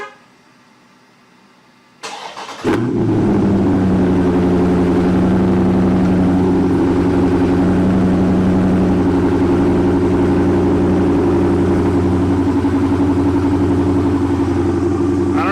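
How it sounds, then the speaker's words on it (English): Near silence, then a Dodge Charger engine cranks and fires with a loud bark on a cold start and settles into a deep, steady rumbling idle through a throaty exhaust with new tips. "first cold start with the new exhaust tips"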